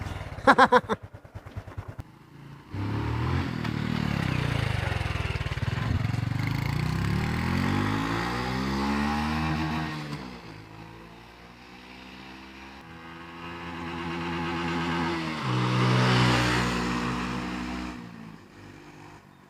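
A Honda Wave 110i motorcycle engine revving on a throttle test ride after a repair for a twist grip that would not open fully. Brief clicks come first, then the engine note climbs, falls and climbs again, steady and fairly close.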